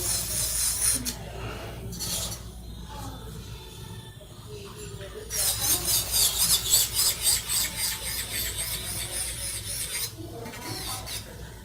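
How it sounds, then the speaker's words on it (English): An electric nail drill filing a fingernail, with a high whining rasp that comes in bursts and pulses, the longest run pulsing steadily in the middle, close and moderately loud. "The way I'm drilling is how I've been doing it for years and years."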